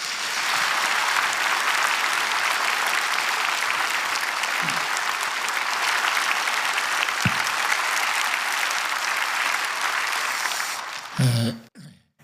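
A church dedication service audience gives long, steady applause to welcome a speaker, with a few throat clears in the middle and a brief rustle and clearing of the throat as the clapping stops.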